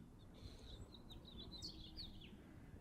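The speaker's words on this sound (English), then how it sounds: "Y'all hear the birds." Several small bird chirps and tweets sound faintly in the distance over a steady low outdoor rumble in an Arizona yard, scattered irregularly with no talking.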